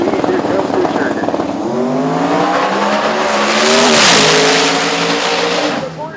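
A radial-tire drag race car makes a qualifying pass at a drag strip, its engine roaring loud and sustained, climbing in pitch through the gears with a brief dip as it shifts, then fading at the end.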